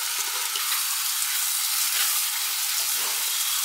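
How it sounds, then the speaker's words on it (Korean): Soaked rice being stir-fried in a pot, a steady dense sizzle with soft scraping stir strokes, close and continuous without voices. "볶아주세요."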